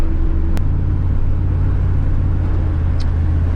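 A vehicle cruises in fourth gear after a transmission repair, a continuous low engine rumble with road noise and a brief knock near the start, steady and close.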